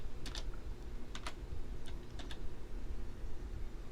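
Several short bursts of clicky key presses on a computer keyboard, close and fairly faint over a steady low hum, with no speech.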